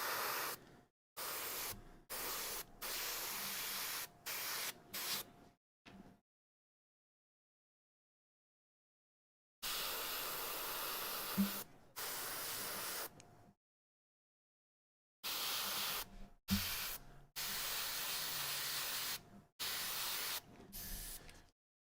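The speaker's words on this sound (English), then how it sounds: "We're airbrushing today." An airbrush sprays paint onto Blood Angels miniatures in short, steady hissing bursts. The bursts come in clusters, with one long silent pause partway through, and there is no talking.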